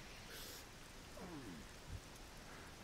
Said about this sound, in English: It's really kind of starting to rain now.